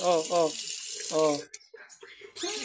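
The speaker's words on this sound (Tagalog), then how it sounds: "Iwanan nyo yung gripo kahit tumutulo yan." A kitchen faucet runs steadily while rice is washed, a bright rushing stream that drops out briefly and then resumes, with a person talking over it.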